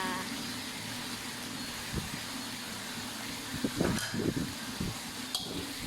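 Pork and cabbage stir-fried in a pan, with a steady low sizzle under scattered scraping and clattering strokes of the spatula that grow busier toward the end.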